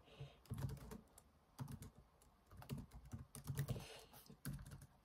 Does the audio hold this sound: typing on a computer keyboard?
yes